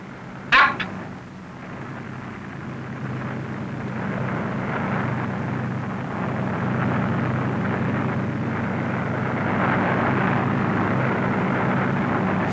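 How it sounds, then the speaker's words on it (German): A military transport plane's engines drone steadily from inside the cabin as they are throttled for a paratrooper jump, a broad rumbling roar rising slightly over time after a brief sharp knock at the start. "Der Flugzeugführer drosselt die Motoren und gibt das Sprungsignal."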